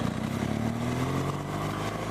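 A 2017 BMW R1200 GS Rally with a boxer engine being ridden, its steady mid-pitched engine drone and wind noise continuous and close, with no voices heard.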